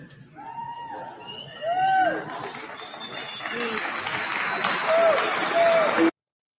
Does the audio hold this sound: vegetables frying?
no